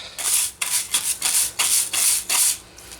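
Rhythmic scraping strokes as muck is cleaned out of a hollow in a wooden dishing stump, about six rough rubbing passes in quick succession, close and fairly loud.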